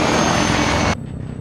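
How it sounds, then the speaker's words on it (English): A C-130 transport aircraft in the Arma 3 video game roars loudly overhead as a broad steady engine drone, then cuts abruptly to a much quieter rumbling background partway through. "A fucking C-130 trying to kill me."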